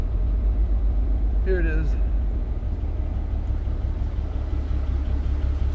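The engine of a 1987 BMW car drives into a garage with a loud, steady low rumble that stays up close throughout, while someone speaks briefly over it.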